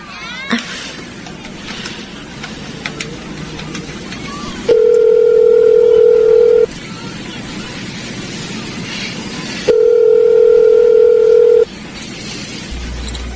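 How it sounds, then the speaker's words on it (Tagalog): A payphone gives two long steady dial-tone stretches separated by quick dialing beeps, loud and close, with faint background sounds between them and no clear talk. "may payphone ho ba kayo? May tatawagan lang po kasi ako."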